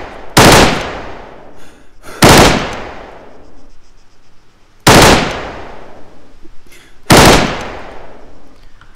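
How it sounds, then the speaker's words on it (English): An M4 rifle in the Arma 3 RH M16/M4 weapons mod fires four loud, close bursts at uneven intervals, each a sharp rapid crack trailing into a long echoing tail. "I think he has the M4, so it only gets 3 bursts."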